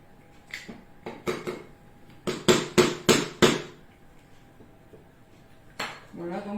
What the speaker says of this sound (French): on va mélanger, on va incorporer les blancs à ce mélange